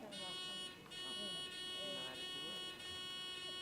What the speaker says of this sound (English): Just test your buzzers.